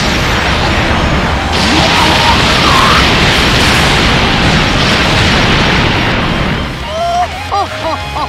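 Fireworks burst in the Dragon Ball Legends mobile fighting game, a dense, loud roll of booms and crackles that fills most of the stretch before thinning out into brief chirpy effects at the end.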